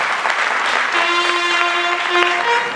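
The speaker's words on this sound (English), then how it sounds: "A round of applause for her one more time." Applause for a performer at the Queen Moremi musical on stage in Lagos. A loud, steady crowd clapping runs throughout, with a sustained tone or voice audible underneath.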